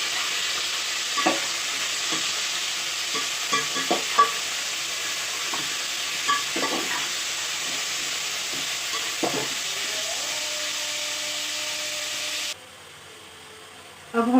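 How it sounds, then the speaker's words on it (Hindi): Chicken pieces hit hot oil in a pot for a white chicken pulao and sizzle steadily, with repeated stirring scrapes over a constant frying hiss; the sizzle drops abruptly near the end, then resumes. "तो इसमें हम डालेंगे चिकन।"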